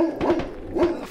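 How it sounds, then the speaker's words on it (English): A dog barks in the military shooter game Squad, two short harsh barks about half a second apart, fairly close and clear with no talk over them. "The dog."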